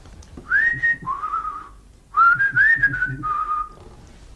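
A warble whistle, performed with a whistling technique likened to a Hammond organ, comes in two phrases of wavering, trilled tones, close and clear with faint breathy noise beneath.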